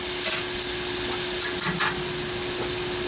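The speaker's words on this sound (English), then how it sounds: "Hear that sizzle?" Rib eye steaks sizzle on a Big Horn 1500F infrared grill, a loud, steady hiss of frying that fills the whole stretch without a break.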